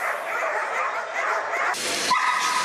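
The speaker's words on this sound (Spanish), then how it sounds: "así vivían 8 canes que fueron rescatados por militares del Centro de Operaciones Sectorial número 2" Rescued dogs barking and yipping in a continuous, overlapping chorus, fairly loud and close, with whimpering mixed in and a brief louder burst near the end.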